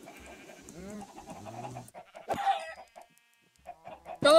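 Minecraft chickens on a game farm cluck in a few short electronic bursts, with quiet gaps between them and no talking.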